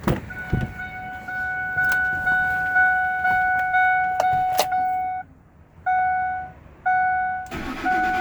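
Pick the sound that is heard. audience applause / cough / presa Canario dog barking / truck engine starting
truck engine starting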